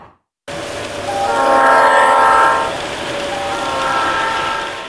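Model trains run in the Krohn Conservatory holiday show: a toy train horn sounds in long, swelling tones over a rolling rumble, fairly close and clear after a brief silence.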